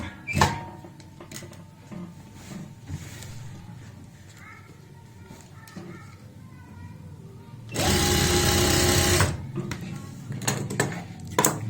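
A sewing machine runs in one burst of about a second and a half, stitching elastic onto a palazzo pant waistband. Quieter handling and rustling come before and after.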